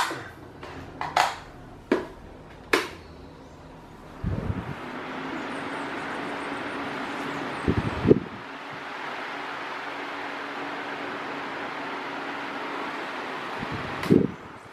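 Polishop Ultra Wind Smart 30 cm electric fan (model VPS-30) switched on and running indoors, giving a steady broadband airy whoosh with a few handling clicks and bumps before it settles.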